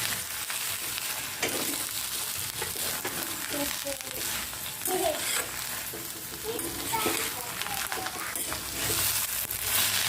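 A vegetable stir-fry, seasoned with coriander and salt, is mixed in a pan, giving steady scraping, crackling and sizzling that runs loud and close through the whole stretch with no clear talk.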